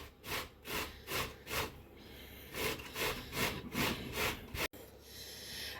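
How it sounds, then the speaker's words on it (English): Courgette rubbed against a kitchen grater in rhythmic, rasping strokes, about ten quick scrapes close up and alone. "Now what you do is you grate the courgette on the grater like this."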